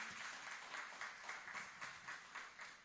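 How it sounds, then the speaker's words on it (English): An audience at a Jamaican government electronic procurement system launch gives a round of applause, steady crowd clapping with slight rhythmic swells, moderately distant in a hall. "Another round of applause, please."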